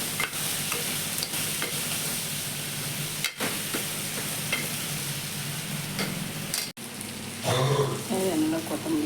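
Potato and peas kurma ingredients sauté in hot oil with salt, a dense, continuous sizzle and crackle with occasional stirring scrapes, close and fairly loud, with a brief voice near the end.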